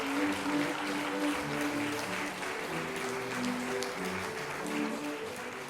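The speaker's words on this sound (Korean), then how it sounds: "박수로 환영해 주십시오." Audience applause welcoming a guest lecturer from Iran at an academic conference, a steady broadband clapping wash sustained throughout at fairly even loudness, no talk over it.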